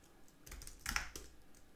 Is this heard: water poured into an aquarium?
no